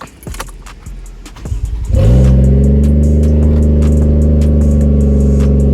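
A Lexus IS300 with a swapped 1JZ engine cranks over with a brief starter whir, catches, then settles into a loud, steady, close idle with no talk.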